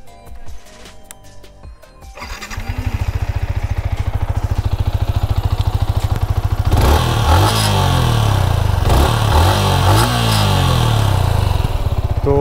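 A Yamaha MT-15 motorcycle engine idles, then revs hard, its exhaust note rising and falling in repeated throttle blips, loud and close.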